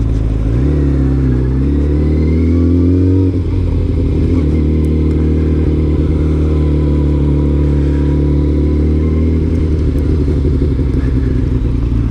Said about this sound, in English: I'm allowed to go for a ride on the motorcycle